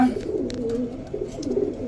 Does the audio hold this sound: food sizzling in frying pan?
no